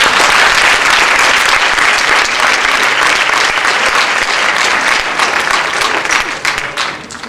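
A lecture-hall audience breaks into loud, sustained applause, dense overlapping clapping that holds steady for several seconds before thinning and fading toward the end.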